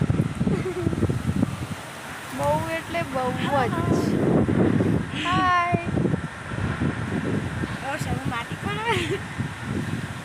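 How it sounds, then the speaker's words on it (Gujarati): Steady outdoor wind rumbles and buffets the microphone while several people talk and call out over it in a Gujarati village, with rain and lightning about. "બહુ જ પવન ચડાયો છે હાલ તો"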